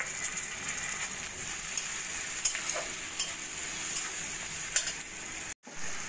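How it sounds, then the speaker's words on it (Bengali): Spice masala for egg curry with chopped tomato, salt, turmeric, cumin, chili powder and ginger-garlic paste being stirred and fried in a pan, a close sizzling hiss with scraping strokes of a spoon that cut off briefly near the end. "এবার সব কিছু মিশিয়ে মশলাটা ভালো করে কষিয়ে নেব"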